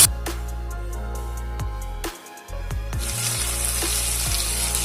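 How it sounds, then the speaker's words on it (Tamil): Asafoetida powder sautéing in a pan for drumstick-leaf kalani saaru, a steady close sizzle of frying with a brief quieter dip partway, then a brighter, louder hiss toward the end; no talking. "அதை சேர்த்துக்கலாம் சேர்த்துட்டு ஒரு ரெண்டு நிமிஷம் வதக்கி விட்டுக்கலாம்"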